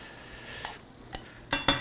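Shrimp and sausage stirred in a pan, with brief scraping clinks and a soft background sizzle rising to a few sharper stirring strokes near the end.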